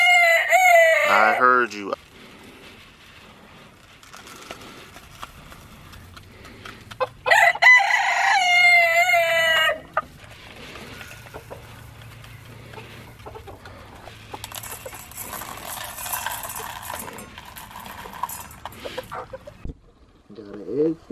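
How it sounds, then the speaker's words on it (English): Backyard chickens in a coop, with a loud rooster crowing near the start and again midway, softer clucking and rustling between, and someone speaking briefly. "Ready to feed to the chickens, man."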